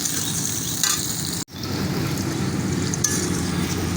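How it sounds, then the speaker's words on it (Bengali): Onion and chili frying in a pan, a continuous close hissing sizzle with a brief dropout early on, then steady crackle, no talk. "এখানে আমি পেঁয়াজটা আর মরিচটা দিয়ে দেবো, ভেজে নেব"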